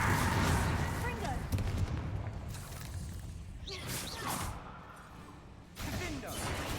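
Confringo and Bombarda spell blasts in Hogwarts Legacy go off as several booming, shattering bursts with whooshing tails, separated by short lulls of quieter game ambience.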